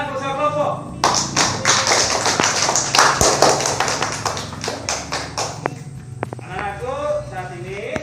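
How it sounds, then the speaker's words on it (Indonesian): A class of schoolchildren clapping hands for their groups, a burst of sharp, fairly close claps lasting several seconds between stretches of a voice speaking before and after. "Tepuk tangan untuk semua kelompok."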